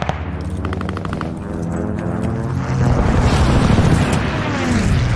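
Strafing-run gunfire in an online shooter video game: rapid bursts of machine-gun fire with heavy booming impacts, a loud continuous barrage that swells toward the end.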